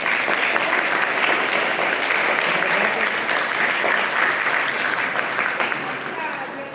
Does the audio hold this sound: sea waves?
no